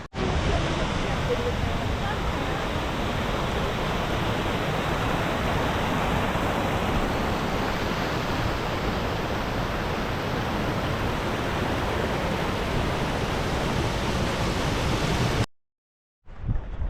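A mountain stream beside the Mount Whitney trail flows with a steady, dense rushing of water that holds unbroken for most of the stretch, then cuts out abruptly near the end.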